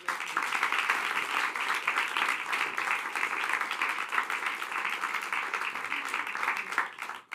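Sustained audience applause at a comedy show as participants head back to their seats, steady dense clapping filling the room for about seven seconds before tapering off at the end.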